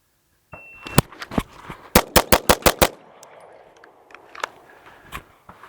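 A Staccato HD P4 pistol fires a rapid string of sharp, loud shots on a range, with a tight burst of about six in quick succession after a few spaced opening rounds, then a few more scattered reports.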